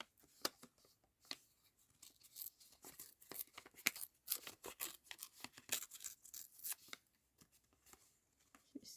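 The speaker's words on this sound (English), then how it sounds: "I'm just going to tear around this." Paper torn by hand around a printed peacock motif for a matchbook-style collage, a close series of short, crisp ripping bursts with brief pauses between, alone in a quiet room.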